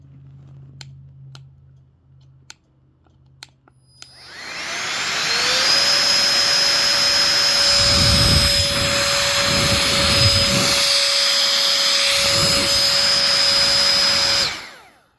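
A rechargeable electric pump inflating an air mattress starts after a few faint clicks, ramps up to a loud, steady whining drone with a high tone that holds for about nine seconds, then cuts off abruptly.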